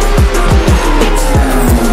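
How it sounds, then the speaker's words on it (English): A race car spins on the track at Imola in iRacing, tires squealing in a rapid series of repeated screeches over loud, close engine roar, with no voices. "we do have a car spinning"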